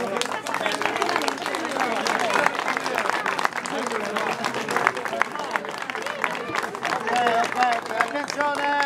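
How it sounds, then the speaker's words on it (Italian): A crowd applauds during a religious procession for S. Francesco di Paola and the Madonna dei Fiori in Mandatoriccio, with sustained dense clapping mixed with voices and crowd chatter. "fate un bel applauso."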